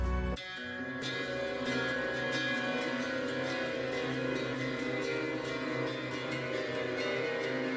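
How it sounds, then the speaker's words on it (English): Ping pong delay feeding a fully wet reverb on an audio effect track in a song production, giving a dense, sustained wash of tones with faint repeating echo taps, steady and continuous throughout. "I really like what I did here is I have a ping pong delay."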